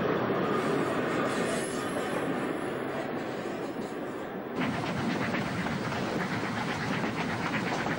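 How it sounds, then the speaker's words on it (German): An ÖBB Crocodile electric locomotive hauling a class 1110 train crosses a bridge on the Salzkammergut line, giving a loud, continuous rumble of wheels and cars with a brighter, clattering rise partway through as it passes close by. "Nach der Durchfahrt der Ischlerbahn passierte ein Krokodil der ÖBB mit einer 1110"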